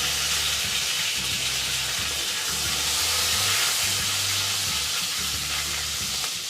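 Curry leaves fry in hot oil with a loud, dense, continuous sizzle and crackle, steady throughout with no talking.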